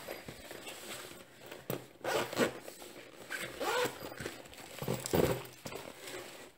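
A Moyu carrying bag for Rubik's cubes is unzipped, giving a few quick rasping pulls of the zipper at close range with rustling in between and no talk.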